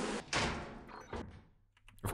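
A locked door in the game Lethal Company rattled and thunked several times, a few dull knocks and a sliding clunk in quick succession, fairly close with no talk.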